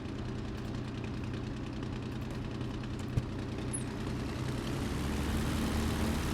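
Messerschmitt Bf109G-6 fighter engine in Microsoft Flight Simulator, a steady throbbing idle with a rhythmic knocking pulse, held at even volume with a single sharp click midway, no voices.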